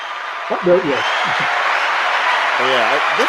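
Steady clapping from a small watch-party audience at a Peacemaker finale screening, a continuous patter heard close with someone talking over it throughout.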